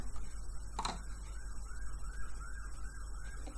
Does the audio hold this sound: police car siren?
yes